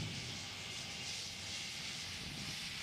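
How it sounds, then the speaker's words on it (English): Beechcraft King Air flight-check aircraft engines, a steady broadband roar of cabin noise with no pauses or changes, heard close from inside the plane. "our own Jim Moore took a ride in one of the first King Airs to be updated."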